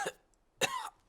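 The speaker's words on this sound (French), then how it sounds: "Voilà que le docteur a attrapé la toux de Pedro maintenant" A cartoon doctor coughs twice, a brief light cough and then a longer rasping one, close and clear against silence.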